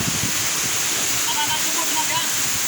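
Baha waterfall roars as a steady, loud wash of falling water close by, while people talk over it.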